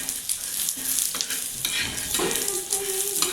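Peanuts roasting in a pan over a low gas flame for a stuffed brinjal curry, with a soft steady sizzle and repeated scraping stirs of a spoon against the pan, close up.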